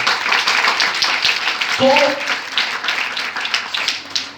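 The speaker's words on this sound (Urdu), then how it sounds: "آئیں زوردار تالیاں بجائیں اپنے خدا کے لیے" A church congregation claps and applauds loudly for God in a dense, continuous burst of hand claps, while a preacher's voice speaks over it briefly.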